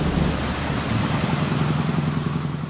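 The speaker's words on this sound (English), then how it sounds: "it rains." Rain pours during a one-day boat trip, a dense, steady roar of drops and water close by, loud and constant with a low rumbling undertone, no voices.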